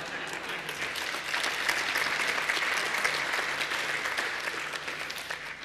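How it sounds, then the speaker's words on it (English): A large audience at a book tour talk by John Stossel in Troy claps steadily and loudly for several seconds, a dense wash of applause with no speech over it. "Glad you clapped for that."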